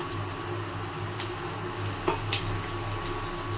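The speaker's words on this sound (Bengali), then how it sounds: "তেলটা গরম হয়ে গেছে দিয়ে দেবো একটু পেঁয়াজ" Chopped onion sizzling in hot oil in a pan for pav bhaji, a steady close frying hiss with a couple of faint clicks of utensil on pan.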